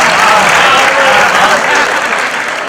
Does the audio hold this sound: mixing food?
no